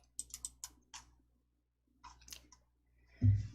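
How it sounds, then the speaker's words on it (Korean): Sharp, dry clicks from a computer mouse come in quick clusters, a run of four or five early on and another group about two seconds in, followed by a dull low thump at the end. No one speaks. "D 완성 더블 클릭."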